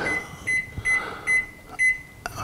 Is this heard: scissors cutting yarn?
no